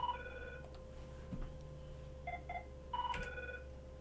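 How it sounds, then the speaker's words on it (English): An incoming call on a radio comedy show's studio telephone rings in short electronic bursts, a few separate trilling chirps over faint background hum, with no talking. "Oh, it's a call."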